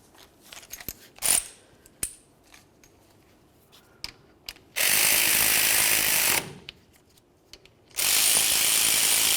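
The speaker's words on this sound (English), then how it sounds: "go ahead and snug them up and then torque them to 32 foot-pounds" A torque wrench tightens the brake caliper mounting bolts on a 2004-2015 Nissan Titan, with scattered clicks and metallic clinks followed by two loud, sustained runs of rapid ratcheting.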